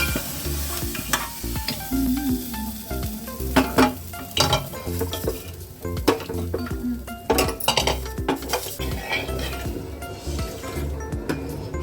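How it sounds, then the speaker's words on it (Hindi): Tomatoes and spices sizzle in a pan while a spoon stirs and scrapes repeatedly, with clinks of utensils against the metal and a steady crackling fry throughout, heard close by with no talking. "अब हम इस सारे मसालों को अच्छे से भूनेंगे।"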